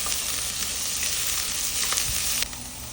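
Onions sautéing with fennel seeds in a pan for a cauliflower curry give a steady, close sizzle that fills the whole stretch, easing slightly near the end.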